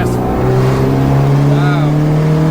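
The 694bhp Mitsubishi Evo V engine holds a steady, loud revving drone from inside the car, a sustained tone climbing slightly as it pulls, with brief voices over it.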